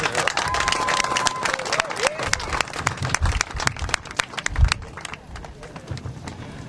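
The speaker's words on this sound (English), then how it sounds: "everybody give them a round of applause" Crowd applause with scattered cheering, loud dense clapping that gradually thins out, with voices and a few low thumps mixed in.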